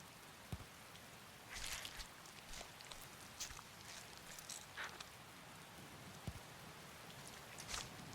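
Steady, faint rainfall in the video game Skyrim, a soft continuous hiss with scattered louder patters and a few low thumps, no talking.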